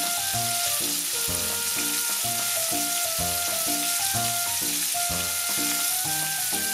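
Chicken pieces for jerk chicken sizzling in a hot pan, a steady bright frying hiss running the whole time beneath rhythmic background music.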